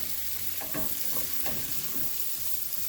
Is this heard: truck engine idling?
no